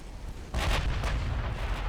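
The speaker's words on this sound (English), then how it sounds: "penetrating hits from HE shells do so much damage" High-explosive shells bursting inside a battleship in the naval video game Ultimate Admiral Dreadnoughts, a sudden booming impact followed by a sustained rumbling roar of explosions, loud and close, with no talk.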